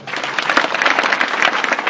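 An audience at an Akhand Harinam Saptah gathering claps for Sitaram Sheth, a dense burst of applause from many hands that holds steady at full volume for the whole moment.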